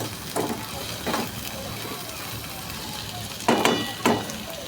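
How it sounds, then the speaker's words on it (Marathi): Cluster beans sauté in oil, village style, making a soft steady sizzle close by, with a few louder bursts of crackle as the pan is stirred. "गवारी चांगली परतून घ्यायची आहे तेलामध्ये"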